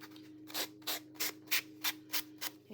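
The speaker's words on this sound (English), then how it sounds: "we're going to take our trusty sanding block" Eight rhythmic scraping strokes of a sanding block rubbing along index card edges, evenly spaced, close and fairly quiet, with a faint steady hum underneath.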